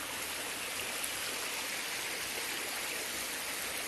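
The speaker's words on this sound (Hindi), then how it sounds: "रुखड़ ये देखो पानी आ रखा है आज काफ़ी" Water rushes steadily across a path on a rainy-season trail toward Kanvashram near Kotdwara, a dense, even hiss with no pauses or voices.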